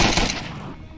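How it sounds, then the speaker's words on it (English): Gunfire in the VR shooter Onward crackles in a quick loud burst of shots that fades over about a second. "I was watching the gunfire"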